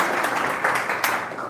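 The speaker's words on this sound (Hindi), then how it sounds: "तालियां बजाओ" An audience at an ISKCON lecture in Chhindwara claps together, a steady, dense wash of applause that holds at an even level throughout.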